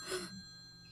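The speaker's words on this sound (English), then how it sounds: "My God, I thought I'd never be so glad to hear a phone ring in my life." A telephone ringing in a Japanese video game, one short bright ring at the start that fades into a faint sustained tone, quiet overall with no speech.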